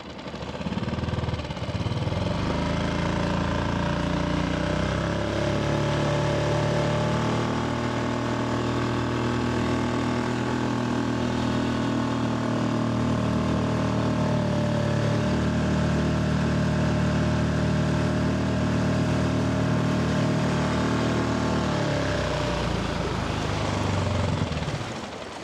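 A Tohatsu 4HP outboard motor drones steadily on a Pelican Bass Raider boat, a loud continuous engine hum with shifting tones, heard up close with no talk.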